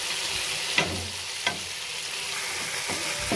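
Garlic-ginger paste fries in a pan with tomatoes, a steady close sizzle running throughout, broken by two or three sharp stirring scrapes.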